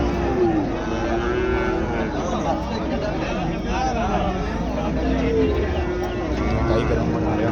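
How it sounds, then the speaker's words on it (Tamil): Cattle low and moo amid a busy outdoor cattle market at Karungalpalayam near Erode, the calls rising over a constant babble of crowd chatter and people talking nearby. "கை கறவை மாடு நிறையா இருக்குது."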